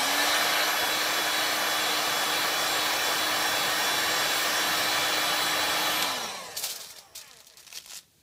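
A heat gun blows hot air across a Worbla thermoplastic sheet, a loud, steady whooshing roar that runs unbroken for about six seconds and then cuts off, leaving faint handling noises.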